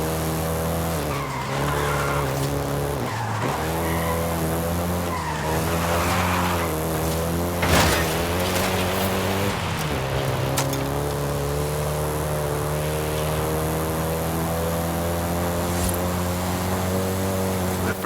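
A Volkswagen Golf GTI in the Forza Horizon 5 racing game, with its engine droning steadily and tires skidding and squealing as the revs rise and drop, loud and close throughout.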